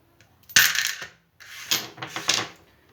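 Several metal coins clatter and snap sharply against a classroom demonstration electromagnet, two loud bursts of metallic clinks close by with a short pause between, no talk.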